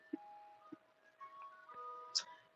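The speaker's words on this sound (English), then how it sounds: "The ice cream truck outside, Mr. Softy." Mister Softee ice cream truck jingle playing outside, a faint, thin tinkling melody drifting from a distance with a few soft knocks and clicks nearby.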